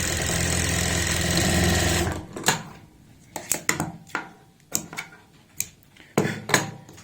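A sewing machine stitches a joint in fabric while attaching a shoulder near a neckline, running loud and steady for two seconds before stopping, then a series of sharp clicks and handling taps follow close by.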